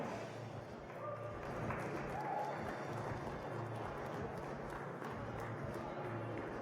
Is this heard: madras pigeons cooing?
no